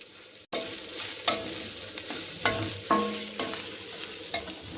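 Ivy gourd pieces frying in a pan are stirred together with spice powders such as garam masala and chili powder, giving a close, steady sizzle broken by several sharp scrapes of the spoon.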